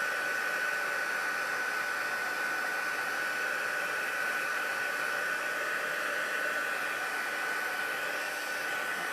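A heat embossing tool blows hot air at a card in a steady, even whoosh, close and continuous throughout, with no one speaking.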